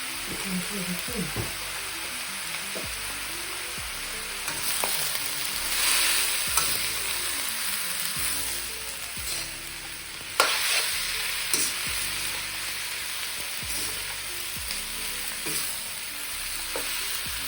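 Tofu and vegetables stir-fry in a pan: a steady sizzling hiss runs throughout, broken by louder scraping bursts as the food is tossed, with faint background voices or music.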